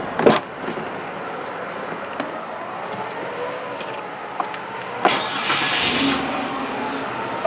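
A car with a camshaft position sensor A circuit fault being cranked and idling, a quiet steady engine hum marked by a couple of sharp knocks and a louder burst near the end.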